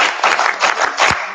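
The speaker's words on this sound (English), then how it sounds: "Ben, hit us with that clap" A small group claps and applauds at an entrepreneurship camp pitch event, a short burst of close, brisk handclaps lasting just over a second.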